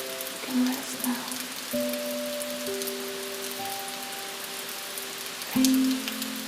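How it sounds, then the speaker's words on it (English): Soft, steady rain patters on surfaces on a Tokyo night, a gentle wash under sustained calm musical tones that shift pitch occasionally. "Rain is falling soft and slow."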